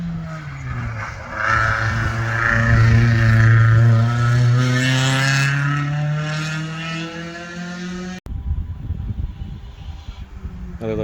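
Four-cylinder race car accelerating at a hillclimb, a loud nasal engine note rising through the revs up close, then cutting to a rougher, fainter engine sound with crowd noise.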